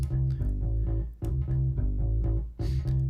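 Music runs through a variable-ratio expansion plugin, giving an expanded sound with punchy plucked bass-heavy notes and sharp percussive transients that jump out over quick dips in level, played loud and up close with no talking.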